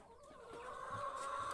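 Chickens in a large farm flock of about 150 birds, clucking and murmuring steadily at moderate distance, with no talking.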